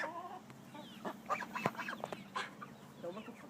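Geese or ducks being fed outdoors give a scattering of soft honks and quacks in short bursts, fairly faint and at a moderate distance, with no talking over them.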